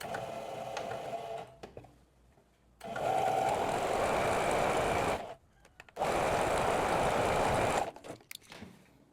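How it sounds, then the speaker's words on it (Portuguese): A sewing machine stitches the side seams of a blouse in two sustained bursts of close, buzzing whir separated by short pauses, with lighter handling noises at the start and end. "a gente vai costurar aqui com um pezinho de máquina as laterais da nossa blusa"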